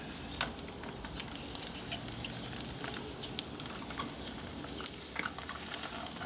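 Bacon and eggs sizzling in a pan at a motorcycle campsite breakfast, a quiet steady crackle with scattered sharper pops and spits, heard up close and alone.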